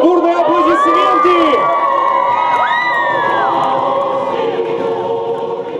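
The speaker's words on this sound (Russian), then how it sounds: "под бурные аплодисменты!" A large crowd cheers, shouts and whoops at a Universiade 2013 torch relay event in Orenburg, a loud continuous roar of many voices with children's shouts rising above it.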